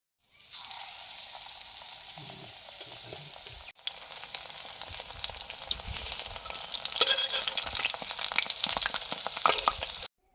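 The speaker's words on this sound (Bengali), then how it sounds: "এদিকে কড়াই বসিয়ে দিয়েছি তেলও বেশ ভালো মতো গরম হয়ে গেছে এবারে বেগুনি দিয়ে দেব" Sliced eggplant fritters go into hot oil in a wok and set off a loud, steady sizzle that swells and crackles harder partway through, close up, with no talking.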